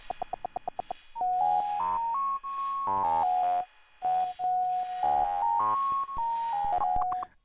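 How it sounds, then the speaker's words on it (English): Synthetic Nokia-ringtone-like beeping tones in a music track, a rapid series of short blips followed by a bright sustained electronic melody of held notes, loud and alone without voices. "This is what a Nokia ringtone sound like."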